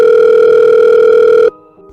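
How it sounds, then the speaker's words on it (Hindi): Telephone ringing in an unanswered call in an animated horror story: a loud, steady electronic ring tone holds for about a second and a half, then stops abruptly, leaving a quieter fading tone. "मगर वो उसका फ़ोन ही नहीं रिसीव कर रही थी।"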